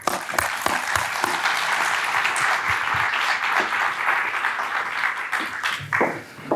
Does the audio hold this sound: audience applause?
yes